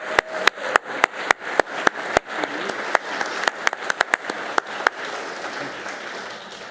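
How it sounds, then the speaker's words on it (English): Applause from an audience at an awards ceremony for leaders. A few sharp, close claps ring out in a fast, regular beat over a softer spread of crowd clapping, then the nearby claps become sparser and the applause fades. "So they really deserve another round of applause."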